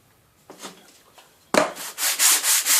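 Sandpaper stuck down on a board rubbing against wood, a few light strokes followed by louder, steady back-and-forth rasping close by.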